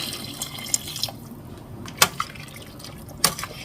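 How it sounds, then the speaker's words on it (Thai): Hot water from a kettle is poured into a Thai pork belly stew simmering in a pot, producing a brief liquid splash and trickle with a few sharp drips and clinks in a quiet kitchen. "ขอเติมน้ำนิดนึงค่ะ"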